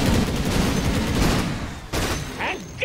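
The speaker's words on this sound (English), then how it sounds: "Rocket barrage!" Gyrocopter's Rocket Barrage ability fires in the Dota 2 video game: a dense, continuous volley of rapid explosive bursts, loud and close. It drops out briefly, then returns as a shorter burst.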